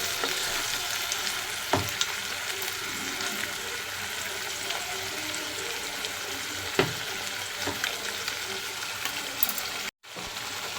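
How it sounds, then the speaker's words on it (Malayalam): Prawn masala sizzles steadily in hot coconut oil, with occasional scraping knocks as it is stirred in the pan, ending with a brief silent gap. "ഇപ്പോൾ നമുക്ക് ഇതിലേക്ക് നേരത്തെ പുരട്ടി വെച്ചിരുന്ന ചെമ്മീൻ മസാല ഇട്ട് കൊടുക്കാം നമുക്കിത് നന്നായിട്ടൊന്ന് ഇളക്കി കൊടുക്കാം"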